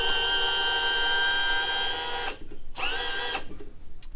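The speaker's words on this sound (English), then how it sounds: "we'll start by trimming up the motor" An outboard motor's power trim and tilt system hums steadily as it raises the motor, a close electric motor drone that cuts out briefly, restarts, then stops.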